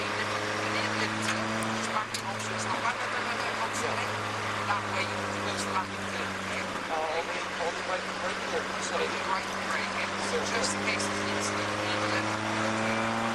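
A race car engine drones steadily in fourth gear during onboard driving, a constant loud hum with rising and falling harmonics under continuous talk.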